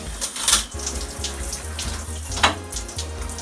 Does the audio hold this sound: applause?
no